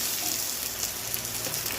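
Onions browning with chicken pieces in hot oil for a Bengali chicken dish give a faint, steady crackling sizzle that fills the short moment without pause, with no voices over it.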